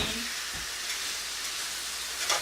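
Meat sears on a hot taco griddle, giving a steady, close hiss and sizzle that holds evenly throughout with no talk over it.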